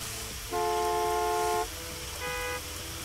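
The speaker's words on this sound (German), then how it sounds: "Die Leute hupen immer viel zu viel." A car horn in the Gas Station Simulator game gives two steady tonal honks, a longer blast of about a second followed by a shorter one, loud and close over quiet background.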